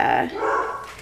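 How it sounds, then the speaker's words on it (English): Several dogs barking indoors in a home, loud and close, with overlapping yaps over about a second while a person speaks over them. "Pardon the dogs."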